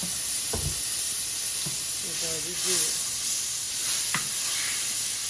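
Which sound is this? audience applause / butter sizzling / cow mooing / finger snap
butter sizzling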